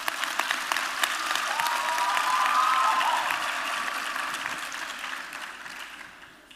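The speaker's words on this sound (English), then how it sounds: "Another round of applause for them." Audience applause for the choir at a university autumn graduation ceremony on the Gqeberha campus, a hall full of clapping that builds to a peak midway and then gradually tapers off, with a faint voice briefly audible mid-clip.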